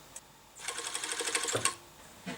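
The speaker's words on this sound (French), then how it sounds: "Je préfère coudre avec la doublure de tissu vers le haut parce que ça s'étire moins" A sewing machine stitches a lined fabric thong in one quick burst of about a second, its rapid needle clatter close and clear, with a soft click before the run and another click after it stops.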